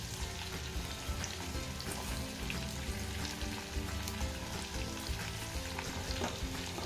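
Potato slices and leftover stuffing sizzle steadily in a hot pan, a close, continuous crackle and spatter with light stirring and no voice over it.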